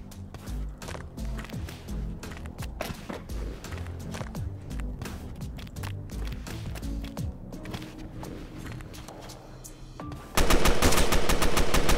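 Rapid gunfire in the Roblox game Fallen, dense repeated bursts and single cracks throughout, ending in a sudden loud close-range volley.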